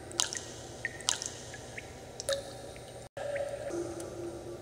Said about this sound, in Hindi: ये हमने फोन को अंदर डाल दिया है